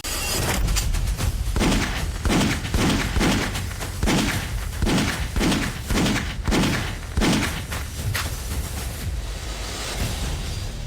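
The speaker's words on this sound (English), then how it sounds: "Not only can it fire 5 rounds, it can even fire 10 consecutively" A pistol fires a rapid string of about a dozen shots in succession, each a heavy booming thud over a dense, noisy background, with the bursts tapering off toward the end.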